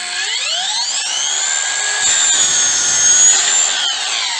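A Ronix 8902K 20-volt cordless circular saw cutting through wood, its high motor whine rising as the blade spins up and then holding a steady, loud cutting tone throughout, with no voices.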